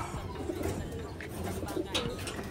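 Soft coos of racing pigeons repeat in a busy indoor loft, mixed with rustling and faint background voices.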